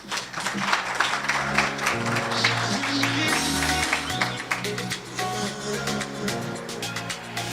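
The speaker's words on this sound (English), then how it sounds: "Round of applause, please." Sustained applause from the audience at a university hackathon prize-giving ceremony, steady and fairly loud throughout, with a murmur of voices and some low background sound mixed in.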